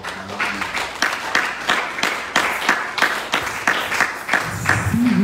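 Church conference audience applauding after a call to acclaim the word of God, steady crowd clapping with rhythmic sharp claps over several seconds, fairly loud and close, with a little voice near the end.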